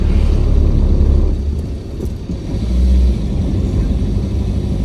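A car engine pulls slowly up the winding Malshej Ghat mountain road, a close, steady low rumble that eases briefly midway and then builds again, with no talking.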